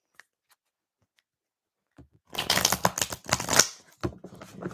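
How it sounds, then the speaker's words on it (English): Tarot cards shuffled by hand in a long, busy burst of rapid riffling and slapping, close and fairly loud after a near-silent start, with no talk over it. "Let me do a proper big girl shuffle as well."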